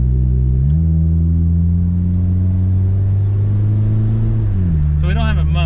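A 2001 Honda Civic engine with a resonator but no muffler, loud and close, a steady droning exhaust note that climbs in pitch, holds, then drops back; a brief squeak near the end.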